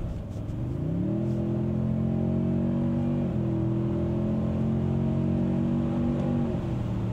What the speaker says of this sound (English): I'll accelerate here and we'll hear that real quick.